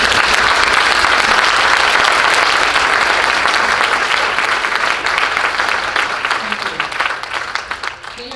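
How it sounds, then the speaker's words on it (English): Loud sustained applause fills a banquet hall as board members stand, a thick crowd of clapping hands that holds strong for several seconds and then tapers, with individual claps becoming more distinct near the end. "please, all current board members stand and take on the applause that you deserve"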